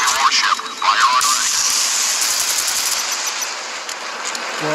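Warship guns firing at an enemy warship in the Modern Warships naval combat game: a loud, continuous rattling barrage of rapid gunfire with whooshing, bright crackle, sustained and close throughout, with no voices.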